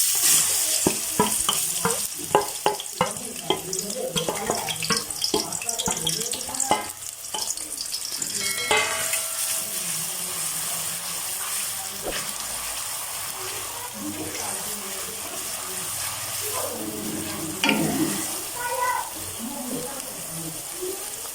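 Finely chopped onions hit hot oil in a karahi, starting with a burst of clattering and stirring, then settling into a steady sizzle and frying hiss, with brief kitchen noises over it.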